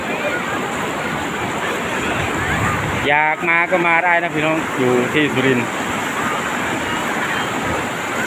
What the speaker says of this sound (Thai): ชมน้ำตกเลยนะ